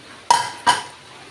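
Two quick clinks of a utensil against a plate, a short ringing tap followed by another about a third of a second later, as cooked rice is served out beside dal and fried egg.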